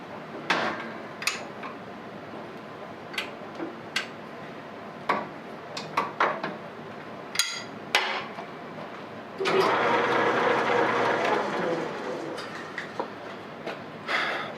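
A metal lathe runs steadily at low speed in back gear with irregular metallic clicks and knocks, followed by a louder stretch of grinding, scraping noise.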